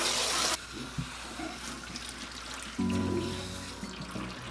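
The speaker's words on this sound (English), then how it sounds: "Starting off by wetting my hair with warm water." Warm water runs from a tap into a bathroom sink while hair is being washed, a continuous splashing flow that shifts in tone as the stream is interrupted and resumes.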